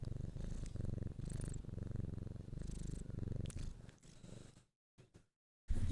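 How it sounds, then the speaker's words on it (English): A chubby pet cat named Onibug purrs close to the microphone, a rhythmic low rumbling purr pulsing with each breath before fading and cutting out near the end. "Oh, he's purring."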